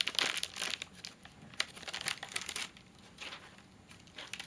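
A snack bag from a MunchPak box is crinkled and torn open by hand, close-up crackling rustles in bursts, loudest at the start and easing off toward the end.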